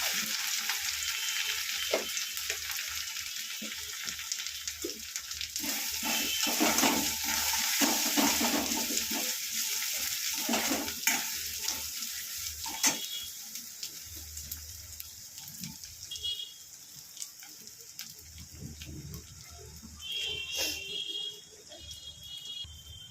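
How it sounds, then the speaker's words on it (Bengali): Black cumin seeds and grated coconut sizzle steadily in hot oil, a continuous close frying hiss with occasional stirring scrapes and brief clinks, no voices. "গরম তেলে কাঁচা কালো জিরে, আর তার মধ্যে দিয়ে দেওয়া হলো একটু নারকেল কুচি, গ্রেট করা নারকেল"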